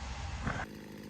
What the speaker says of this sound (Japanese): このチェーンソーに特殊な刃を取り付けた道具で作品を削っていきます。